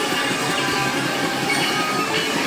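Dense, steady rumble and clatter from a train-driving arcade game cabinet in a Japanese game centre, continuous and loud with no speech over it.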